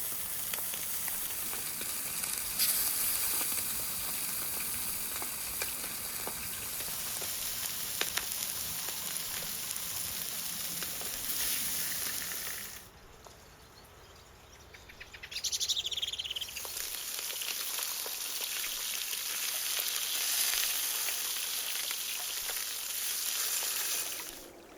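Kokorech roasting on a spit gives a steady, faint sizzle and crackle outdoors, with insects and birds chirping in the background and a brief lull partway through.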